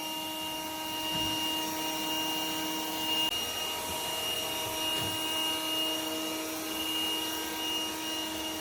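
A Yeedi Mop Station Pro robot mop runs at its maximum setting, giving a steady, fairly loud whirring motor drone with a high whine, plus a few soft bumps and rubbing sounds, with no talk.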